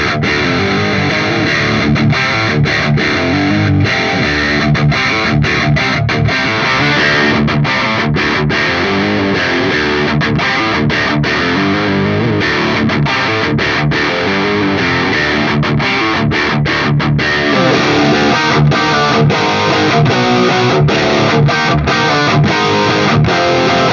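Heavy, high-gain distorted electric guitar through a Marshall Studio 900 20-watt amp, playing continuous dense chugging riffs with rhythmic palm-muted stops, loud and steady throughout with no talking.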